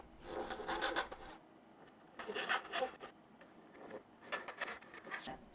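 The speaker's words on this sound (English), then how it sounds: "And I'm using this great Florip Toolworks saw." A Florip Toolworks hand saw cuts dovetails in wood, giving three separate bursts of rasping back-and-forth strokes with short quiet gaps between them, close and fairly soft, with no talking.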